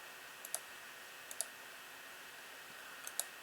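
A computer mouse gives three quick pairs of sharp, faint clicks spaced about a second apart over a quiet room hum, with no talking.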